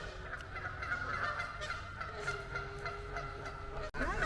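Small-breed swans honking in a park, repeated nasal calls from several birds, near and moderately loud over outdoor background noise.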